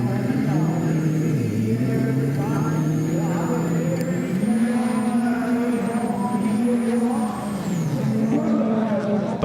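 WRC rally cars, a Hyundai and a Citroën, race on a 1.9-kilometre sprint stage in Sweden with loud, continuous engine roar that rises and falls through gear changes, heard under a commentator's voice.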